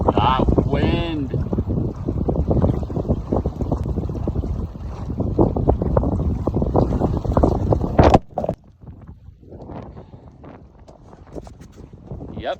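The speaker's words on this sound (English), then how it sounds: "That wind." Wind gusting over a lake while fishing from a boat, a loud rumbling buffet against the microphone that drops off abruptly, with a person talking over it.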